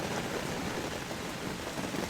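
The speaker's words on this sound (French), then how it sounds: "Eh bien voilà Madame la pluie qui ressurgit." Steady rain falls as an even, dense hiss that stays constant and fairly close, with no voices or other sounds over it.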